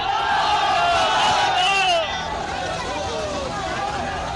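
A charged protest crowd in Moradabad chants slogans together, a dense roar of many voices with rising and falling shouts that stays loud throughout and eases slightly partway through.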